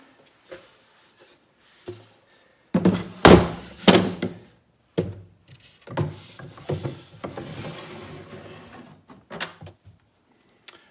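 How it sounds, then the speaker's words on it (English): A wooden drawer is worked into its opening in a custom-built piece of furniture, with scattered knocks, a cluster of loud thunks and sliding scrapes, then lighter taps and bumps as it settles into place. "Let's try to put the drawer in."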